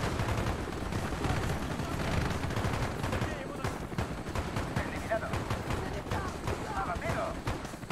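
Rapid gunfire from the video game Call of Duty Black Ops, with dense bursts of shots and explosions throughout and game voices mixed in.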